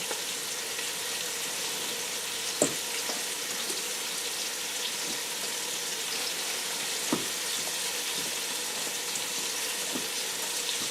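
Beef pieces fry in oil for a stew, giving a steady, even sizzle that runs throughout, with a few faint clinks of stirring or utensils breaking through now and then.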